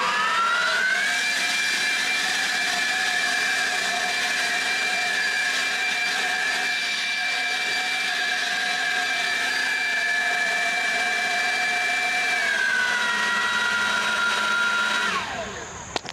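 A cordless leaf blower runs at full power with its button held down, a loud steady whine that holds evenly for about twelve seconds before the pitch drops and the motor winds down at the end.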